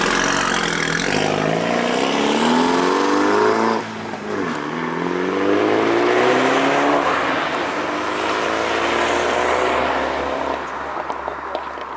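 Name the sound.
Mini JCW with valve-open exhaust accelerating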